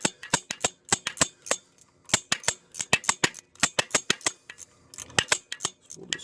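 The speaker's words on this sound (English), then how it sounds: "on the bottom I'm just using a little 15mm ratchet wrench here" Rapid ratchet clicking from a small 15mm ratchet wrench loosening starter bolts underneath a GMC Acadia-type crossover, sharp metallic ticks in quick bursts with brief pauses, close and clear.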